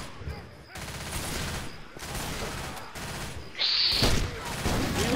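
Rapid gunfire with explosive ammunition in Left 4 Dead 2, a dense, sustained burst of shots that swells louder near the end, with no voices over it.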